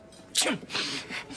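A single sharp sneeze bursts out up close, a quick intake followed by an explosive burst, trailed by a breathy exhale and soft vocal noise.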